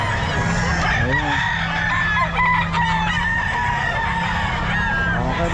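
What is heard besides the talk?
lemon sweater gamefowl rooster crowing at Bocaue pet market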